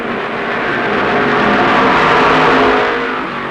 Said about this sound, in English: Bobby Johns roars down the backstretch and runs into trouble